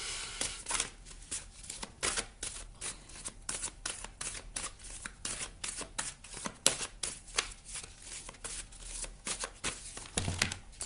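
A deck of oracle cards is shuffled by hand, with rapid papery riffles and flicks that run nearly nonstop over several seconds. The sound is close and fairly quiet, with no voices.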